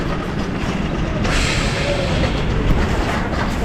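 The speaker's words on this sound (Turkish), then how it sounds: "Tren resmen önümüzden gitti resmen önümüzden kayıp gitti." Passenger train in Uzbekistan pulling away from a station platform, a loud continuous rumble of wheels and carriages close by that swells slightly partway through, with no talk over it.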